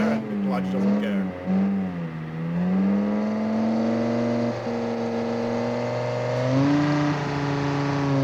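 BeamNG hypercar with a single-gear transmission, its engine revving steadily with a smooth rising whine and a pitch shift near the end, continuous and close throughout.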